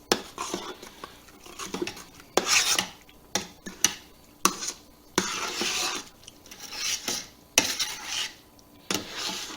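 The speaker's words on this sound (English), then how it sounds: "And then we're going to stir this up like so." A utensil stirring homemade pasta sauce in a pot, close and repeated scraping and rubbing strokes in irregular bursts with brief pauses between, no talking.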